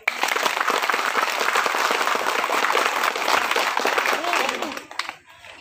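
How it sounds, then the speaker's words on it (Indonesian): A village community gathered for a ceremony making their hamlet a village gives sustained applause, dense and close, then fading near the end, with voices mixed in. "saya minta kepada masyarakat Al Fafa tepuk tangan dulu"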